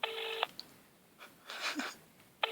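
Telephone keypad dialing tones sound nearby as a number is entered, two clear beeps at start and end with quieter tones and faint noise between, no talk.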